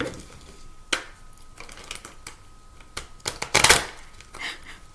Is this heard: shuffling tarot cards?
yes